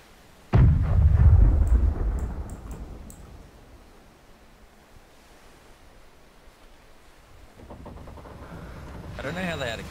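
Cannon fire in the pirate ship battle game Blackwake: one heavy, close boom erupts early and fades into a long low rumble, followed by a rising wash of surf-like noise.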